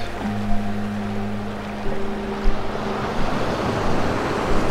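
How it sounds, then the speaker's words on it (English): Ocean surf at the north end of Vanderbilt Beach in Naples, Florida, makes a continuous broad wash with a low rumble and some wind noise in the early morning, while a faint tonal hum drifts underneath. "this is going to be kind of like our first look at the beach here"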